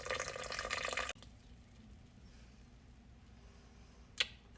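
Water, 340 grams of it, pours from a tap into a bowl with unfed sourdough starter for a loaf, a loud splashing stream that cuts off abruptly, then a quiet lull and one short clink.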